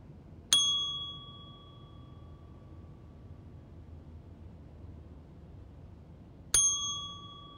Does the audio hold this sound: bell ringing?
yes